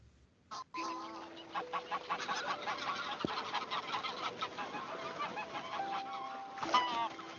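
Geese honk repeatedly in a noisy flock, their loud overlapping calls carrying on for several seconds with a few cluck-like notes mixed in.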